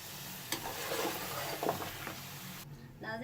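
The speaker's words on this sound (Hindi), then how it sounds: "अच्छी तरीके से इसको मिक्स करके 5 मिनट तक मसाले को भूनना है" Homemade nihari masala spices for beef nihari are stir-fried in a pan, giving a faint, steady sizzle with soft scraping stirs, low and close.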